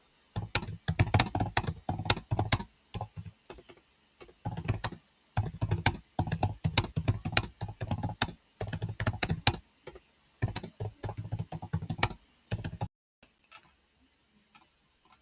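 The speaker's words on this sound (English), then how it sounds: "So I'm going to type it." Typing on a computer keyboard, rapid bursts of close, crisp key clicks in uneven runs with short pauses, ending in a few scattered taps and then quiet.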